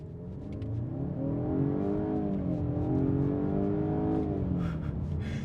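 A 2022 Jaguar XE P300 AWD launches hard from a standstill, its engine note climbing steadily through the revs, loud and close for the whole stretch with no talking.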